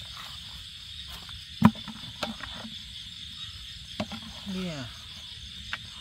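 Crickets chirping outdoors in the mountains, a faint steady high-pitched trill running underneath, broken by a few sharp clicks and handling knocks, with a brief spoken word.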